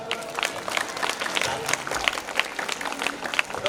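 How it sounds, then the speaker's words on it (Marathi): An audience at a school Independence Day celebration claps steadily for several seconds, a dense patter of hand claps filling the hall, with a speaker's voice over a loudspeaker nearby. "जोरदार टाळ्या वाजवा."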